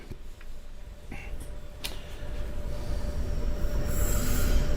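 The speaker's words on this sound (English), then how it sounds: "we will then get the sound of those two locomotives firing up" A train hauled by two locomotives rumbles past nearby, wheels grinding and squealing on the rails, the noise steadily building toward the end with a high metallic whine.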